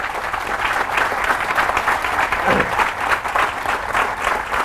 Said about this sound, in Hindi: इस बात पे जोरदार तालियां होनी चाहिए